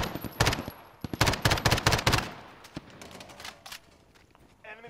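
Rapid automatic gunfire in Call of Duty Warzone, loud close bursts of shots in quick rhythmic clusters during the first half, then scattered single cracks and quieter fire trailing off, with brief talk.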